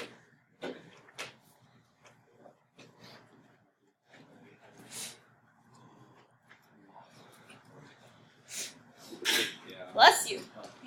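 A single sharp sneeze bursts out near the end, after soft scattered noises in a quiet classroom, with people speaking faintly.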